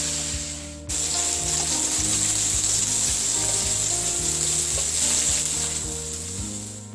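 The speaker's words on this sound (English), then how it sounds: "And now fry them till it changes its color." Prawns fry in hot mustard oil with turmeric powder, a loud steady sizzle breaking in after a brief quieter start and holding, with soft scraping stirs beneath.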